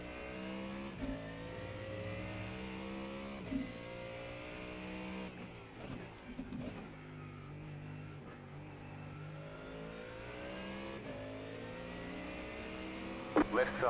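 Engines hum steadily in an IMSA sports car racing video game at Daytona as faster race cars close in and pass, their higher revving tones rising over a constant drone, with a few brief clicks and bumps.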